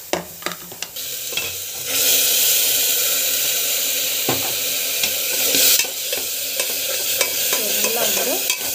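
Food sizzles and fries in a pan while a utensil stirs and scrapes through it, close and continuous with occasional knocks against the pan.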